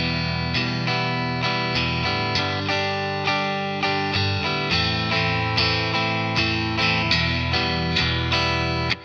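Distorted electric guitar strumming chords in quarter-note triplets, a steady, even rhythm of evenly spaced strokes, loud and unaccompanied.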